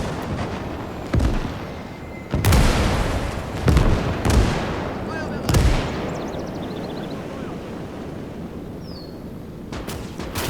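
Mortar fire in the real-time strategy game Gates of Hell lands as a series of heavy, booming blasts, five or six loud impacts spaced a second or so apart, each trailing off into a rumbling tail.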